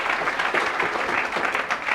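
A crowd claps loudly at a motivational talk, a dense steady burst of applause lasting a couple of seconds with no speech.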